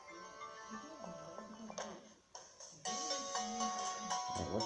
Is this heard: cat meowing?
no